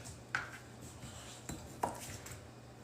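A knife cuts food on a cutting board in a home kitchen: three sharp, fairly quiet chopping strikes spaced irregularly over a low steady hum, with no talking.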